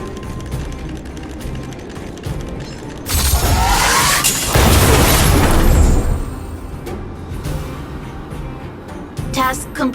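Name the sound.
Automaton Spiders detonating, video game Honkai Star Rail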